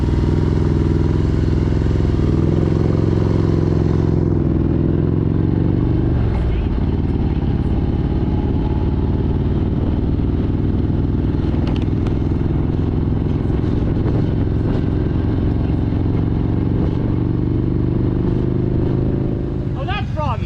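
Motorcycles at Biketoberfest idle and rumble steadily close by for the whole stretch, a continuous low engine drone with occasional clatter, while people talk over it.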